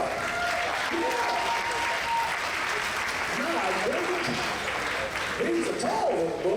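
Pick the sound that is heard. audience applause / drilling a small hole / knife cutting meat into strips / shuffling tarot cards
audience applause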